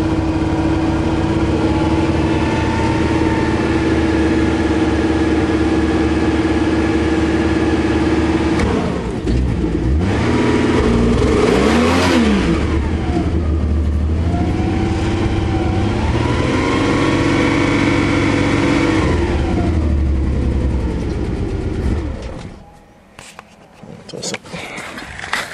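An old Ford Fairmont engine cranks to life and runs loudly up close, idling roughly with repeated revs and pitch swings, then cuts out near the end.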